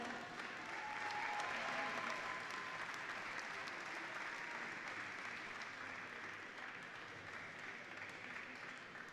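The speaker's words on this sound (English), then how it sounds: "Let's give them a warm round of applause." A volleyball arena audience at a women's U19 Pan Am Cup gold medal match gives a warm, sustained round of applause, a dense even wash of clapping that fades slightly toward the end.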